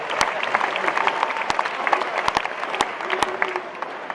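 Steady applause from a crowd honouring a world judo champion at a gymnasium inauguration in La Londe-les-Maures, with sharp individual claps standing out over a continuous dense patter, no talk over it.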